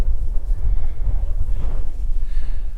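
Wind gusts across an exposed mountainside campsite on Aran Fawddwy in Eryri, a loud, constant low rumble buffeting the microphone with no voices.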